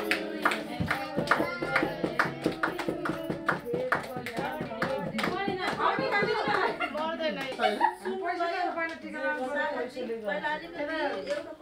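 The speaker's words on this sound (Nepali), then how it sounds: "ताली है ताली" A small group claps in bursts of quick, close applause at a YouTube Silver Play Button unboxing, mixed with chuckles, laughter and chatter, with voices talking over the clapping.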